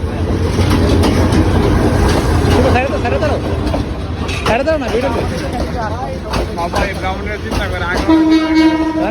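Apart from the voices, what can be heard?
train arriving at station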